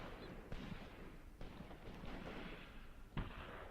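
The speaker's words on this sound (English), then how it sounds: "I at least got to shell them a bit with my mortars." Mortar shells from the video game Graviteam Tactics thump at a distance, three or four muffled booms spaced a second or so apart over a low rumbling background.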